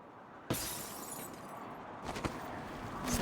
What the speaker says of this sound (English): Sounds like broken glass.